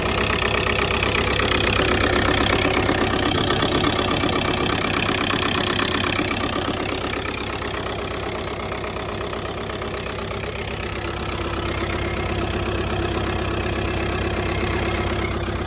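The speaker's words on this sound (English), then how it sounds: "I love it when it starts back up, like, after you've been doing some engine work like that" A 2.0 TDI diesel car engine, just fitted with a new turbo, idles steadily and loudly up close, with a constant rough, knocking rumble that eases slightly partway through. No voices.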